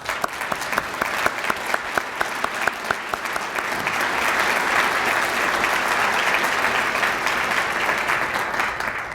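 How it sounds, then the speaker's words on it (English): An audience at a regional state-of-the-address event applauds staff departments, opening with sharp distinct claps that quickly swell into sustained, even applause lasting to the end. "If we could give them all a round of applause."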